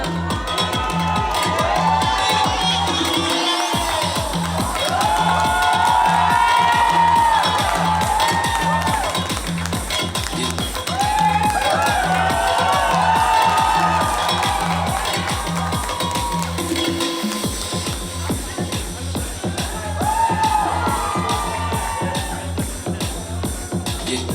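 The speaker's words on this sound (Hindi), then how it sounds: "एक बार जोरदार तालियां।" Loud audience applause and cheering at an Ayurveda event procession in Rishikesh, with a crowd shouting and whooping over rhythmic music and sustained clapping throughout.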